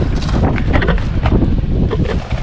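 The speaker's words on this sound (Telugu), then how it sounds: "గాలి మరీ ఎక్కువగా ఉంది, కెమెరా కూడా కింద పడిపోతుంది" Strong wind batters a microphone outdoors during a toy Spider-Man car unboxing. The roar is loud, continuous and rumbling, with no pauses and no voices.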